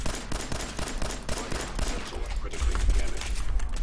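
Rapid bursts of gunfire in the video game Fallout 4, a dense run of sharp repeated shots in quick rhythm, loud and close, with a heavier boom toward the end.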